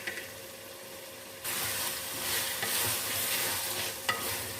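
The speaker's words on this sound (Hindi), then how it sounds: "अभी हम कीमे में आलू ऐड कर देते हैं।" Potatoes are dropped into sizzling mutton keema in a pan and stirred, with an abrupt rise in frying hiss followed by steady sizzling and scraping of the spoon, heard close with no talk.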